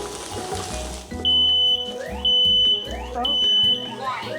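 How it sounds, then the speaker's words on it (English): A smoke alarm in a home kitchen sounds three loud, piercing beeps of equal length at a steady interval, with people talking and cooking clatter in between. "Fire detector."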